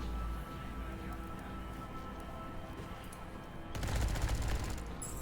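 A light machine gun firing sustained automatic bursts in the game Underrail, a continuous rattling stream with a louder, denser burst near the end, mid-distance and unaccompanied by speech.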